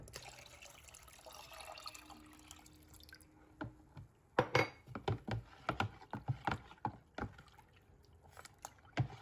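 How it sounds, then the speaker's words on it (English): Three cups of water poured for horchata: a soft trickle at first, then a run of sharp, irregular splashes and drips, close and quiet, with no voices. "What I'm going to go ahead and do is add 3 cups of water."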